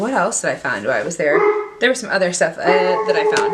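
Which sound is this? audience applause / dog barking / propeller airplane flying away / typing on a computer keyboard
dog barking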